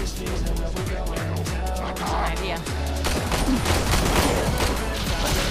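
Rapid gunfire bursts in the video game Warframe, dense and continuous with heavy booming shots over a game soundtrack, growing busier toward the end.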